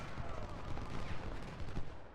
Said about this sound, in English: It's the artillery.